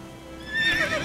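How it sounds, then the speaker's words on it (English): A horse in the video game The Witcher 3 gives a brief, close whinny that rises and fades within a second, with faint hoof sounds beneath and no talk. "Luckily, Geralt can always count on his horse, Roach, to help him during his travels"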